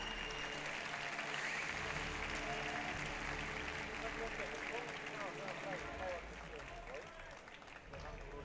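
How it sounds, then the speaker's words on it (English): Crowd applause fills the venue for both fighters after a bout at a combat sports event, steady broad clapping throughout, with an announcer's voice over it. "Let's hit a big round of applause for both fighters."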